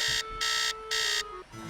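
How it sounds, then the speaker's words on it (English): A harsh electronic alarm clock in a Nancy Drew mystery game blares in two loud, steady bursts with short gaps between them, then cuts off, leaving a faint tone trailing behind. "Hate that alarm clock. It's such an obnoxious sound."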